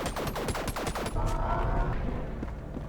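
A plasma blaster in ANNO: Mutationem firing a rapid burst of a dozen or so sharp zapping shots with falling tones, then stopping into a brief rumbling tail.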